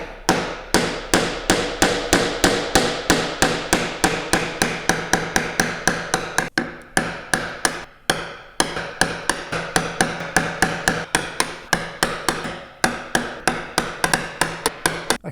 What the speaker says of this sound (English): Now I'm going to get my 6 millimeter chisel right in the middle between those lines to make sure it's not hitting anything